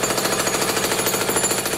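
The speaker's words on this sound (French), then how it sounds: "Marteau-piqueur, 110 décibels." A jackhammer pounds away in a loud, steady, rapid hammering that fills the whole stretch without pause or voices.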